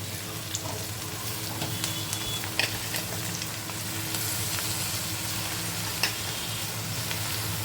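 Chopped amaranth leaves fry in a pan with a steady close sizzle, broken by occasional stirring scrapes and clinks.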